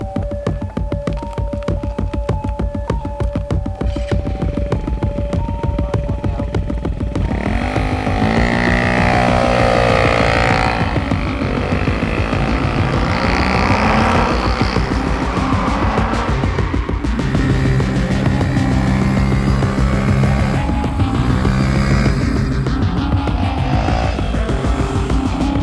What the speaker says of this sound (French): Robin, allume le moteur qu'on s'en aille